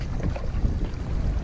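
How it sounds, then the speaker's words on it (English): Steady low rumbling wind buffeting the microphone, continuous and fairly loud, with a faint watery wash underneath and no voices. "Nice and windy,"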